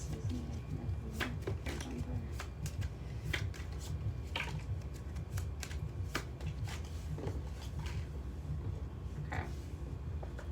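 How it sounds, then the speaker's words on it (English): Oracle cards shuffle close by in steady, crisp riffles and slaps that repeat throughout, with no talking. "let's get another shuffle in"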